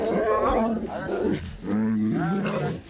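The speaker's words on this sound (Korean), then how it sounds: "배고플 때 내는 꼬르륵 소리라고 하기엔 믿지 못할 만큼 무시무시한 굉음이 연신 터져나온다." Young lions under a year old at a zoo, excited by a chicken breakfast, give deep, loud, drawn-out roars and groans in repeated bouts, close to the microphone.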